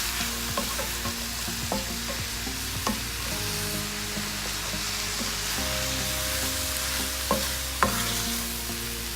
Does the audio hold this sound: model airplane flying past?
no